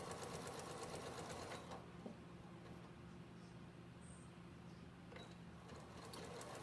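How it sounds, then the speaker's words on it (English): A sewing machine stitches binding onto a quilted reading pillow. Its fast, even mechanical whir runs close and steady, stops for a few seconds of quiet room tone, then starts up again near the end. "we're going to sew the binding on"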